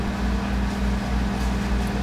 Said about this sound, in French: Pendant que le beurre là, là, fond dans le micro-ondes